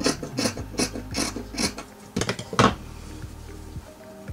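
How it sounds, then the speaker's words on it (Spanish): Scissors snipping through the fabric of a pillowcase, trimmed close for a French seam: a run of short, rasping cuts in quick rhythm, then a few softer snips, heard up close with no talk. "Con una tijera lo vamos a cortar un poquito menos de medio centímetro para hacer la costura francesa."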